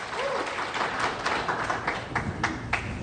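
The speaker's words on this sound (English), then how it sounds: "Please hold the clock till the applause stop." Audience applause during a 2018 Connecticut gubernatorial debate, a sustained wash of clapping from the hall with a few sharper claps standing out.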